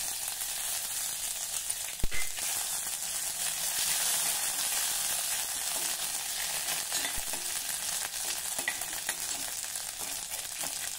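Cumin seeds, grated ginger and crushed green chilli sizzle steadily in hot oil, a dense continuous frying hiss with a couple of sharp clicks from a spoon against the pan, close and fairly loud throughout.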